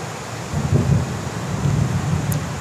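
Distant thunder rolls in a low, drawn-out rumble that swells and fades over continuous rain and wind noise, with no voices.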